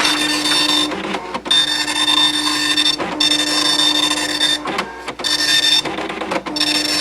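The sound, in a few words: printer connected to Atari Portfolio printing a page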